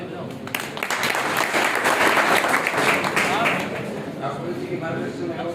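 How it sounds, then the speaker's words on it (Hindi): An audience clapping at a gathering of successful SSC-GD candidates, a broad burst of applause that swells in the middle and then tapers, with a voice talking over part of it. "ताली बजाओ।"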